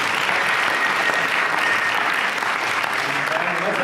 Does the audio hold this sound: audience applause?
yes